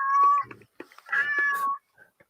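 A cat's meow plays as a sound effect: two drawn-out, tonal meows close up and clear, with a short pause between them and a faint chirp at the end.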